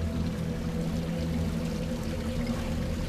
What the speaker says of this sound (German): Das ist das Wasser von den Straßen.